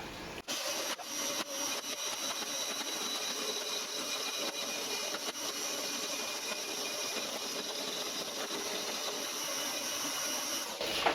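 A milling machine cuts a part on a restored milling table and vice combo, a steady loud broadband whirring and grinding that runs unbroken throughout.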